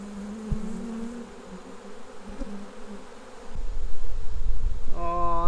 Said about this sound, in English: Oh, sorry about that, bees.